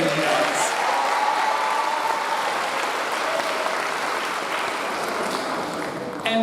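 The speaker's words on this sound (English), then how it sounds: "perhaps you can see what this class is like by how robustly they are applauding each other" A graduating middle school class applauds one another at their commencement ceremony, producing a dense, sustained wash of clapping that holds steady and loud throughout without pause.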